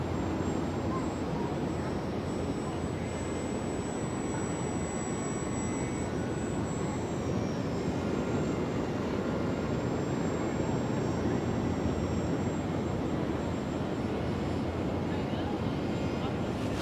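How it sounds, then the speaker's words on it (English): A steady, broad engine roar of an airplane flying overhead at a beach fills the whole stretch, constant and fairly loud, with faint voices mixed in. "He's flying an airplane."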